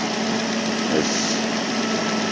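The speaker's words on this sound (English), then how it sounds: "I'll warm up the engine and let it be." A Mercedes S600 engine idles as it warms up after repair work on its mass air flow sensor, giving a steady, even hum with a faint high whine that holds throughout, close by and with no talk over it.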